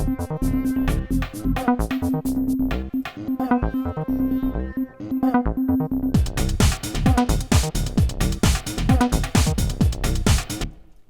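A breakdown section of an electronic track moves from a sparse, tonal, almost orchestral passage into a denser stretch of punchy, percussive hits, loud throughout with no voice.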